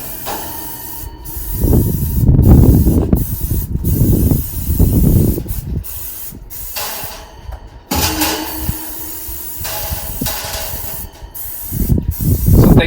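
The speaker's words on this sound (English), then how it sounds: "I'll continue spraying until I get a good coat on the walls and on all of the racks" Bursts of aerosol oil spraying hiss repeatedly inside an Ole Hickory Pits smoker, some short and some long, loud and close, with brief pauses between sprays.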